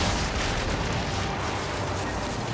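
Ship weapons fire in a naval battle in Assassin's Creed Origins, a dense, continuous barrage of loud booms and bursts with no pauses, filling the scene.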